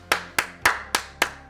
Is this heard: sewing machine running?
no